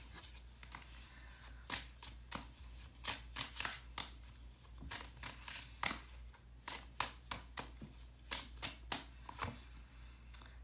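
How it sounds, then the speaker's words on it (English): Crossroads Oracle deck cards being shuffled by hand, a steady series of crisp riffling snaps and slaps repeating over several seconds, close and fairly quiet with no speech. "let's just pull some cards and see what wants to come through from the Crossroads Oracle here"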